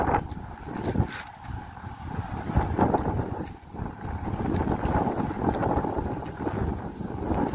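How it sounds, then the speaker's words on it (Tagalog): Strong wind at Carson Park buffets and roars across the microphone in gusts, a constant rushing blast with no voices. "napakalakas yung hangin, no? Oh, napaka-windy"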